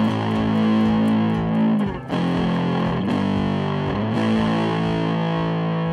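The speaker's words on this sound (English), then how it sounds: "I ended up using that record preamp as a distortion pedal for several years." A loud, heavily distorted electric guitar played through a record player's preamp used as a distortion pedal rings out in sustained, buzzing chords, with a brief dip before the noise resumes.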